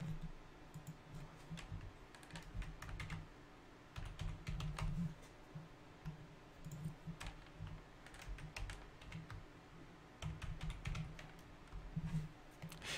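Steady typing on a computer keyboard, a dense run of quiet key clicks with brief pauses, close and alone without talk.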